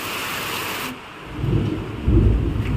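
Rain hisses steadily, then deep rumbling thunder rolls in and builds, loud and close, with no voices.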